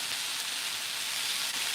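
Mushrooms sautéing in a pan make a steady, close, hissing sizzle with fine crackle, unbroken and even throughout, with no voices.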